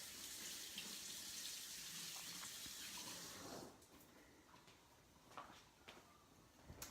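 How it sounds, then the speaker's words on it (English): A kitchen faucet runs strongly as hands are rinsed beneath it, a steady close hiss of water that cuts off partway through, followed by faint drips and small handling sounds. "I'm going to rinse my hands real quick"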